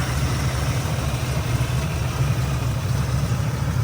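A 1967 Ford Mustang fastback's 289 V8, fitted with an Edelbrock carburettor, headers and a performance air intake, idles steadily with a deep, even burble, close and continuous throughout.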